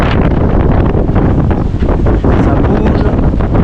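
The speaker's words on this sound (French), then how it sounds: "on est toujours dans le gros vent." Strong wind of 25-30 knots at sea aboard a sailboat, a loud continuous roar buffeting the microphone with rushing water beneath, steady throughout.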